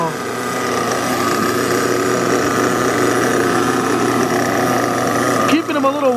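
A Kyosho Inferno MP9 RC car's nitro engine idles steadily during break-in, a loud, continuous high buzzing drone that holds at an even pitch, with a brief revving blip near the end.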